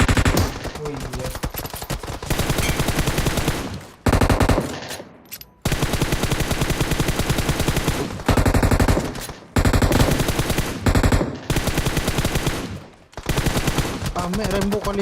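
Rapid, sustained automatic gunfire in the mobile battle-royale game PUBG Mobile, loud bursts running several seconds each with brief pauses between them, dense and close.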